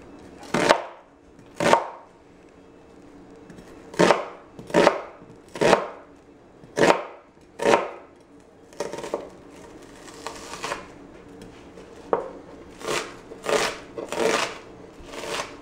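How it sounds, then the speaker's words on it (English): Kitchen knife chopping onion, garlic and jalapeno on a cutting board: a series of crisp, close, evenly spaced thuds in bursts, with no talking. "What I'm gonna do now is cut up the onion, garlic, and jalapeno"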